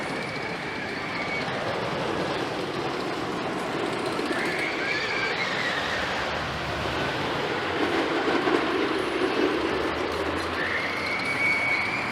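A steel roller coaster train leaving the station at Six Flags Darien Lake, New York, rumbles and clatters on its track, with occasional squealing wheels, at a steady moderate distance.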